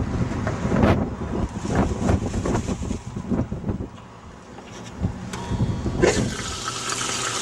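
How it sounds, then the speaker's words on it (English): Water rushing through a homemade clean-up gold sluice and flushing down into a bucket, a steady close splashing gush with some gurgling and wind buffeting the mic. "I'm just going to turn the water on and flush it right down into this bucket."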